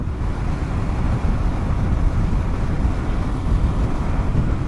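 Cold early-winter wind buffets the microphone during a motorbike ride, a constant low, rough roar with no talk.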